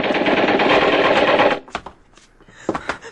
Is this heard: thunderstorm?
no